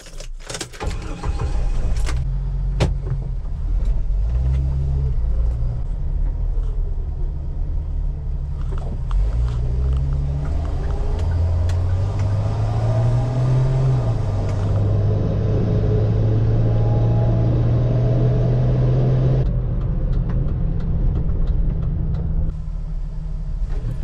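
A Jeep Wrangler with a rough idle runs on a test drive, its engine a steady low rumble inside the cabin for over twenty seconds, with a few clicks and shifts in pitch as it moves.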